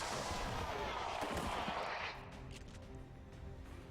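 A single heavy gunshot from the turn-based tactics game XCOM 2 cracks loudly, with a long rumbling decay that fades into quieter ambient game sound.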